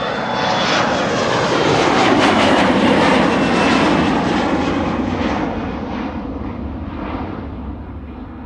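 A narrow-body jet airliner at Amsterdam Schiphol Airport gives a loud, broad engine roar up close. It holds steady, then slowly fades as the aircraft moves away.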